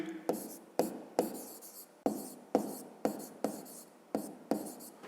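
Pen writing by hand on paper in a fifth-grade maths lesson, about ten short, crisp scratching strokes in an irregular rhythm, close and fairly quiet.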